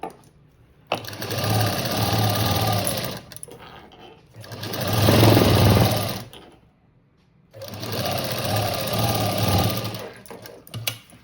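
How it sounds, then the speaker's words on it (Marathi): Sewing machine stitching a bridal blouse cut from saree border fabric, sewn around all four sides. Three long, loud runs of steady motor whir sit close by, separated by short pauses. "नंतर आपल्याला हे चौबाजूनी तर पण शिवून घ्यायचं आहे"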